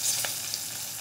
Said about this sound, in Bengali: এবার মাছ ভাজা তেলের মধ্যে আমি দিয়ে দিলাম 5 ফোড়ন